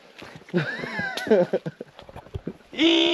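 On a Malibu hiking trail, a person's voice imitates a donkey bray in a series of strained, honking, pitch-sliding cries that end in a long, loud hee-haw.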